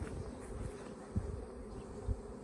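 Honeybee swarm hanging on a tree branch, a constant thick buzz of many bees close by, with a couple of brief low bumps and no talk.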